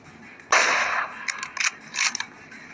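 AWM sniper rifle shot in PUBG Mobile: one loud, sharp report with a short tail, then a few quicker metallic clicks and clunks of the bolt working, with no talk over it.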